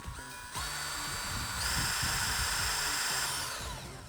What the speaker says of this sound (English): We need to drill those bigger.